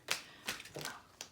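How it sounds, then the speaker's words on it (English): A tarot card deck is being handled and shuffled. There are a few quick, soft, papery snaps and riffles in short bursts, faint and close with no talking. "This deck is incredibly hard for me to shuffle with my tiny hands."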